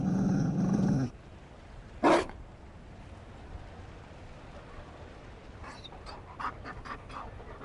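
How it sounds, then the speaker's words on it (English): A Mabari war dog in Dragon Age: Inquisition gives a short burst of panting at the start, followed by a sharp bark-like sound, then quiet ambience with faint scattered clicks. "You found a dog."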